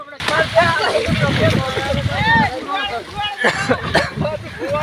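Heavy rain pours in a village as water rushes and sloshes along, with splashing and gurgling throughout. Someone talks excitedly over the steady, loud wash of water.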